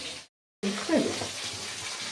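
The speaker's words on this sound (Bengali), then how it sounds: "ওই জন্য আলু ভাজা হচ্ছে" Potatoes sizzle and crackle steadily in a hot pan, a bright constant hiss after a brief silent gap, with a faint voice briefly mixed in.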